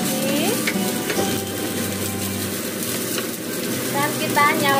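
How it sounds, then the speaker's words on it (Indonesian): Chicken sizzles and crackles in a hot wok while a utensil stirs and scrapes; a voice briefly sounds in the background. "Lalu ini ayam kita masukkan ke wajan lagi"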